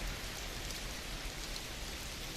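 Rain falls steadily in a video game, a soft, even hiss of drops with no voices over it.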